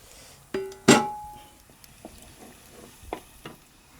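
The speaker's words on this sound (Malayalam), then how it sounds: "മീൻ വറക്കാൻ പറ്റ ദോശക്കല്ലാണ് ഉപയോഗിക്കുന്നത് കേട്ടോ." Fish frying on a dosa griddle, a low crackling sizzle behind a loud metallic clang near the start and a few lighter knocks and scrapes later.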